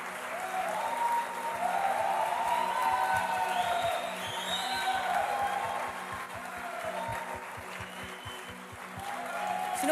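A church congregation applauds its pastor steadily for several seconds, dense clapping with a few cheers mixed in, fading slightly midway then swelling again at the end.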